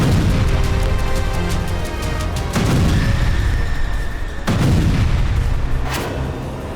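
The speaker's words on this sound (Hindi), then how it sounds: "यूक्रेन के इस हमले के बाद पूरा क्रीमिया धमाकों से गूंज उठा।" Heavy explosions from a Ukrainian missile and drone attack on the Russian Black Sea Fleet naval base and dockyard at Sevastopol, Crimea, rumble continuously, with about three sharp loud blasts standing out over a dense, roaring, booming background.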